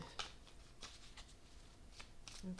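A tarot card deck being shuffled by hand, with soft repeated riffling and flicking card sounds close up. The sound is fairly quiet and continues steadily with no talking.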